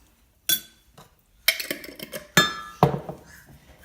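A metal spoon clinks against bowls while ground flax seed goes into each one for no-sugar-added oatmeal: four sharp, close clinks spaced apart, with no talking.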